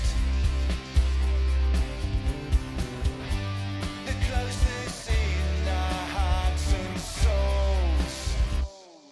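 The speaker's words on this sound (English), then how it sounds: "So I have got a song with some vocals on it" A full mixed song with vocals, playing unmastered before a mastering plugin is applied, dense and steady with drums and sung melody for about nine seconds before stopping abruptly.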